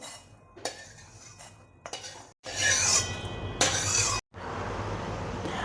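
Roasted amla are scraped from a pan onto a metal plate for pickle, making clinking and scraping bursts of utensil against metal, separated by short silent gaps, close and moderately loud.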